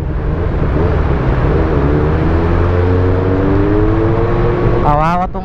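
A Honda CB400 SF motorcycle rides on a test drive, its engine a loud, steady drone with rising tonal whine as it accelerates, wind rushing throughout, and a voice speaking near the end.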